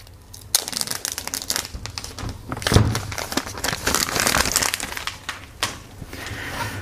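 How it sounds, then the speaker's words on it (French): Packaging for a new Apple iPhone 11 crinkles and crunches through an unboxing, with irregular rustling and crumpling bursts close by and no speech. "C'est parti, on déballe."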